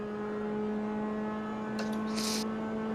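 A Lotus 79 race car in a racing video game holds a steady, droning engine whine with a fixed pitch, and a brief burst of hiss near the end.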